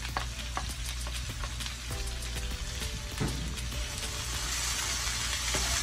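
Bean sprouts and mixed vegetables with garlic paste and ginger sauté in a hot pan, giving a steady, loud sizzle with occasional scrape-like stirring clicks throughout, no voices.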